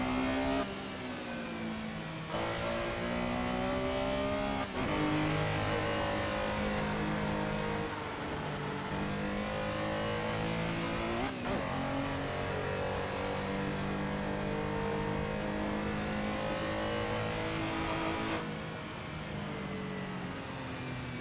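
A race car engine in a racing video game revs hard and continuously, rising and falling through gear shifts on a circuit track, loud and close with no speech.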